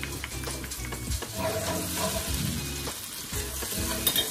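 Garlic and tomato paste frying in a pan for a Kapampangan asado, with a constant sizzle and irregular scraping and stirring knocks close by.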